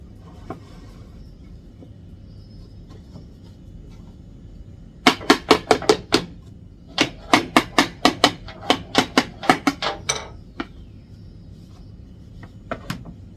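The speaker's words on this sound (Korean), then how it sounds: "짧은 프레임 홈의 방향을 맞춰서 끼워주세요. 그리고 바닥판을 끼워줍니다." A pine wood bottom panel gets tapped and knocked into the grooves of a small drawer frame, a burst of sharp wooden knocks in quick clusters with short pauses, close and fairly loud after a quiet start.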